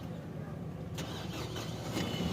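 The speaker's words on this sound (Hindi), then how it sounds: "अभी ये गाड़ी स्टार्ट हो गई है" A car engine turns over on its starter motor in a check for a faulty starter. A steady mechanical whirr carries a couple of sharp clicks or catches, heard up close with a faint voice in the background.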